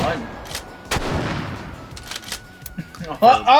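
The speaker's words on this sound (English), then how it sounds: "we're just shooting flashbangs now" Shotgun blasts in the VR game H3VR, a manual-action riot shotgun firing flashbang rounds; sharp loud reports land near 0.9 s and again around 3.2–3.5 s, with a person talking over and between them.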